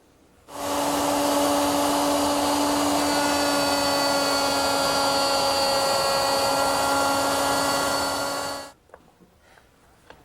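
A wood router cutting a slot in a piece of wood to hold a nut, a loud steady high-pitched whine running for about eight seconds before spinning down, then quiet handling clicks.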